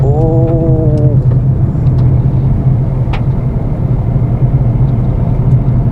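Renault Kiger compact SUV cornering on a road, a steady low engine and road rumble running throughout with tyre noise, recorded from inside the cabin, with a brief tonal whine at the start and no talk.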